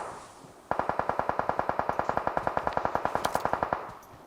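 Automatic gunfire from the mobile battle-royale game PUBG Mobile: a rapid, even burst of about thirty loud shots lasting roughly three seconds, heard alone with no talking.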